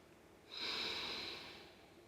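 A single long, audible breath during a yoga flow, a soft airy exhale that swells and slowly fades over about a second and a half, close and quiet with no talking.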